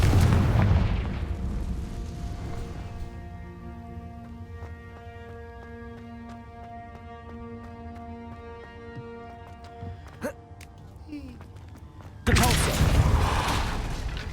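A Confringo explosive spell in Hogwarts Legacy goes off with a heavy boom that decays into a long, ringing tonal hum. A sharp crack follows, then another loud burst near the end.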